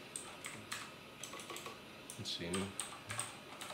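A Wi-Fi password is typed on a keyboard in quick, irregular, fairly quiet keystrokes, and a voice speaks briefly partway through.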